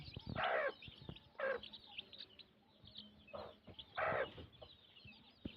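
Free-range village hen with thirteen chicks eleven days old clucks softly in short, spaced calls, with faint chick peeps between them, close by and fairly quiet.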